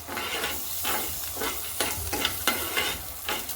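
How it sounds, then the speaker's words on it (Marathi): Chillies and peanuts roast in a hot pan for thecha, a continuous sizzle broken by regular scraping stirs roughly every half second, close and fairly loud with no voices. "हे असं मस्तपैकी भाजून घ्यायचं"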